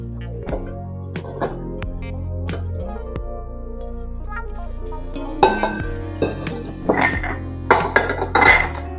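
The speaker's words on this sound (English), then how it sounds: "I'm going to fold the raisins and the oats into the" A spoon scrapes and clinks against a bowl while raisins and oats are folded into oatmeal raisin cookie batter, with soft irregular knocks that grow busier and louder toward the end.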